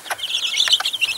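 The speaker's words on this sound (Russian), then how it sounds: "цыпки наши" Young farmyard chicks being let outside in the morning give a quick run of high, thin peeping cheeps, close and fairly loud, with a short scuffling sound underneath.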